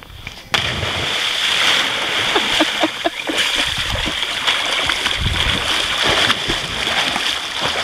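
A person jumps from the coach roof of a boat and hits the water with one sharp, loud splash. Steady sloshing and gurgling water follow close by, and voices can be heard under the splashing.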